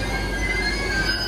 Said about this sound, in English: the train next to me is departing right now